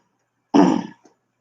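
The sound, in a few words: coughing and throat clearing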